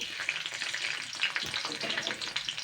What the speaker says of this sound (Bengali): তেলটা কিন্তু হালকা গরম হয়ে গেছে, সবার প্রথমে কিন্তু রসুনটা দিয়ে দেবো